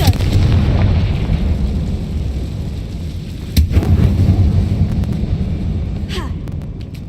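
Bombarda and Confringo spells explode in a mine in Hogwarts Legacy, giving loud, heavy booming blasts with a rumbling low roar and sharper cracks partway through.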